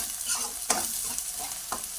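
Onions frying in a pan with a few cashews and curry leaves, a steady soft sizzle broken by brief scraping stir strokes, close and moderately quiet with no voices.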